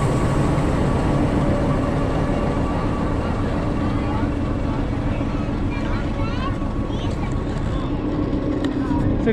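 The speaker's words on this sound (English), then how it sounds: "So it's a small toy train." The small Ooty toy train in the Nilgiris rumbles steadily close by, a continuous dense mechanical roar with faint tonal hum, with people talking underneath.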